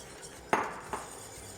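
A whisk stirs farine into hot milk spiced with condensed milk, giving two sharp metallic clinks against the pot over a faint, quiet background.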